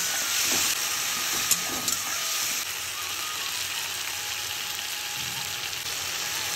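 A paste of green chilli, mustard and two cloves of garlic fries with turmeric in a pan for a village-style fish dish, giving a steady, even hiss and sizzle with a few soft clicks and no talking.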